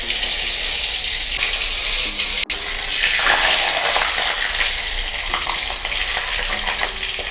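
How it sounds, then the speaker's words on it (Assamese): Lightly boiled potatoes frying in hot oil for chicken biryani, a loud continuous sizzle up close with a sharp clink partway through and scraping stir sounds, no voices. "আৰু এতিয়া আলুখিনি আমি তেলত দি দিম।"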